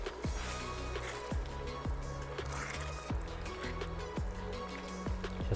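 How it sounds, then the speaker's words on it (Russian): Liquid poured into bolognese beef mince in a pan and stirred, giving a soft continuous wet sizzle with sloshing and repeated scraping strokes of the spoon, close and steady. "выливаем нашему фаршу, нашему болоньезе, перемешиваем"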